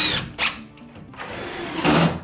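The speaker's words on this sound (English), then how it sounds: "mark all your studs by putting a screw in them" A power drill drives screws into drywall over wooden studs, with short whirring bursts separated by pauses, then a longer sustained run near the end, close and fairly loud.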